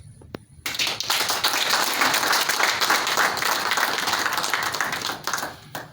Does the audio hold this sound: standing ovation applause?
yes